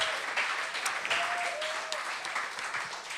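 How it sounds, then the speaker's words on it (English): An audience at Club Garibaldi applauds the band after a live set, with steady close clapping that holds throughout. "Give yourselves a hand."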